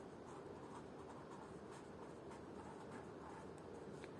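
Chalk or marker scratches continuously across a classroom board, with a dense, close rasp and no speech.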